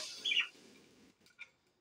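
Budgerigars chirping indoors, a short bright burst of high twittering near the start followed by a couple of fainter, briefer chirps, then quiet.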